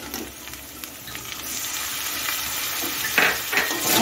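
Shrimp and fried potato stirred together in a pan with taro gourd, a steady near sizzle and fry with soft scraping of the spoon throughout, louder bursts toward the end.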